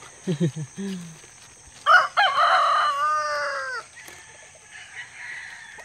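A hen clucks a few times, then a rooster crows loudly and close by, followed by softer clucking and bird calls.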